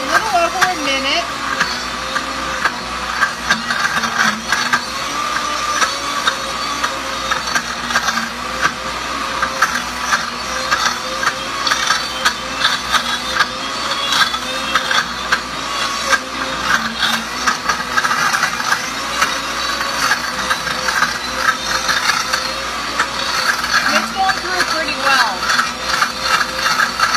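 A Peanut Butter Deluxe cooking blender grinds peanut butter with a loud, steady motor whir and a gritty churning that runs without a break.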